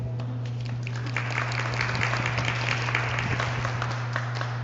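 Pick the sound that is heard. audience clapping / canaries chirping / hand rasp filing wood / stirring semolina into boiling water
audience clapping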